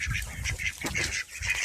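Ducks in a pen quack and honk in quick, rasping repeated calls, close by and overlapping, with no talking.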